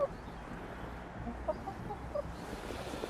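Hens in a waterlogged garden give a few soft, scattered clucks at a distance, faint over a low outdoor background rumble.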